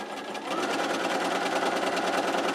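A sewing machine stitches a quarter-inch seam across a quilting charm square, a steady, fast, continuous mechanical whir with a dense rhythmic needle chatter, close and loud throughout.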